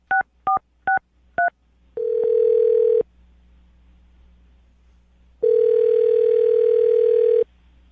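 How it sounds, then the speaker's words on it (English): Four short two-tone keypad beeps, then a steady dial tone that cuts off, a pause, and the tone returns loud and clear for about two seconds. "I'm going to dial the phone number right now"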